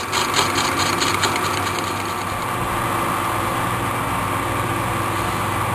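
A machine tool runs steadily on power feed while drilling into metal, a continuous loud motor whine with a faint rhythmic rattle early on and no talk.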